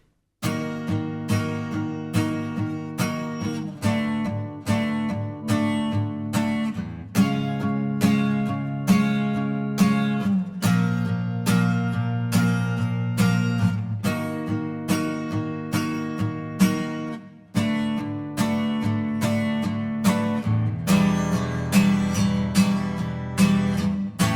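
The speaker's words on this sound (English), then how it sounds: "So very slowly, the intro sounds like this." Strummed guitar chords of the intro to a song, played slowly and steadily, each chord hit in an even rhythm with brief pauses, continuing for over twenty seconds without voices.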